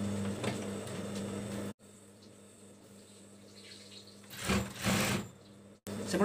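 A sewing machine stitches a baby blanket in short bursts, a close motor whir broken by pauses, with a brief rustle of fabric being handled between runs.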